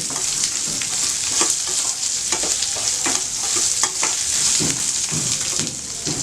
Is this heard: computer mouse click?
no